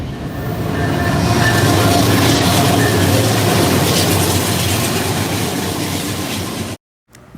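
Steady loud rumble and rattle of a freight train of coil cars rolling past close by, continuous clatter of cars, cutting off abruptly near the end.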